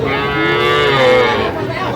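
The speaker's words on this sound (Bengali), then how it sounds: "শাহিওয়ালার ষাঁড় বাচ্চা আমরা দেখছিলাম এখানে" A loud, drawn-out moo from a Sahiwal bull calf, close by, lasting about two seconds with a rising then falling tone.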